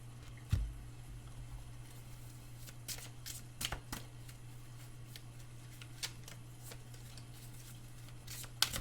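A deck of tarot cards is shuffled close up in a quiet room, a run of soft riffling and patting taps with a few sharper snaps, over a steady low electrical hum.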